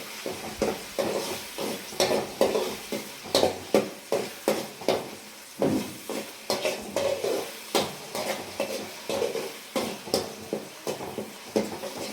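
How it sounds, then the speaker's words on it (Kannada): Whole spices and bay leaves fry in a pan for palak chicken while a spoon stirs in steady, repeated scraping strokes over a light sizzle, close and without voices. "ಸ್ವಲ್ಪ ಮಸಾಲೆ ಐಟಮ್, ಮಾಮೂಲಿ ಪಲಾವ್ ಎಲೆ, ಎಲ್ಲ ಹಾಕಿ ಚೆನ್ನಾಗಿ ಸ್ವಲ್ಪ ಫ್ರೈ ಮಾಡ್ಕೊಳ್ಳೋಣ."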